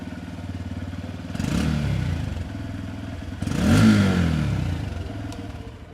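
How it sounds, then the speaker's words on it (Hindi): A Japanese-engined motorcycle starts and revs twice, with two surging throttle blips over a steady, smooth and slightly bassy exhaust burble, heard up close and alone. "अब स्टार्ट करके साउंड सुना देता हूँ कि इसकी एग्जॉस्ट नोट कैसी है"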